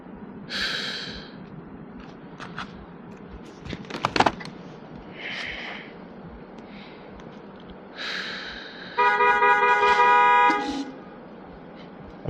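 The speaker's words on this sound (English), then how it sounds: "It's so much traffic around the area right now." A New York City street jammed with traffic after a snowstorm, with a few short honks followed by a long, sustained car horn blast. Close breathing and snorting sounds are heard between them.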